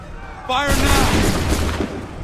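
Musket volley fire in Assassin's Creed 3 Remastered on PC: a single loud, broad boom of many guns at once that rings out and decays over the next second or so, following a brief shouted voice.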